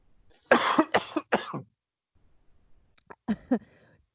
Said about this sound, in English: now I have to cough